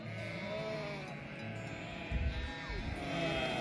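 Sheep bleat repeatedly on a farm, several overlapping calls near and at moderate loudness over a steady outdoor background, with a brief louder rustle or thump partway through.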